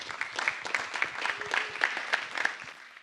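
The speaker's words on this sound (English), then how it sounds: "Please give him a warm applause." An audience claps at a business talk as a speaker comes on stage. The applause is moderate and steady, with distinct hand claps that continue evenly for a few seconds.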